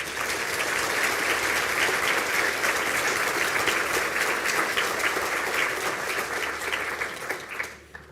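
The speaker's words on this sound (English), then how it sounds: "I ask the graduate of the Bachelor of Science in Business Information Systems to stand for a round of applause." Sustained audience applause for a business information systems graduate at a university conferring ceremony in Galway, steady and even throughout before fading out at the end, with no talking.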